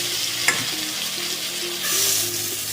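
Tilapia fish pieces with eggplant and potato fry in hot oil, giving a steady close sizzle and crackle, with a brief utensil knock early on and no talking.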